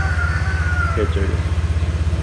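A motorcycle engine idles steadily right after starting, a low, even pulsing putter close by with a brief faint clatter partway through.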